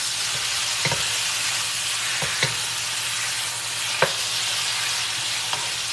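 Cajun pork stir fry sizzles steadily in a pan with blackened seasoning, a constant frying hiss broken by a few sharp scrapes and clacks as two spoons stir the meat.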